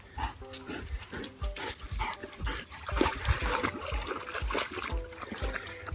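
A dog named Wade swims in a permaculture swale, with splashing and paddling in the water, sniffing and snorting nearby, and a person talking over the rhythmic watery movement.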